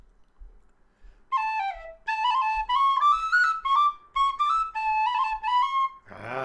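A tin whistle plays the hornpipe The Little Beggarman (The Red Haired Boy), a quick, lilting tune in bright, clear phrases with brief pauses, ending abruptly with a low thump.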